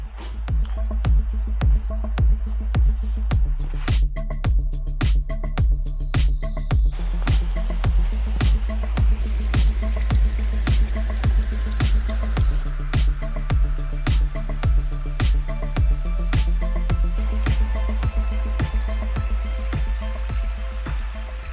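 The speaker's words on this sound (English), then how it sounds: "Like I'm walking up a little creek, a shallow creek the whole way," Footsteps splash steadily through a shallow creek on a ridge traverse above Lake George, each step a regular crunching slosh of wet shoes in running water, close and continuous over a constant background of flowing water.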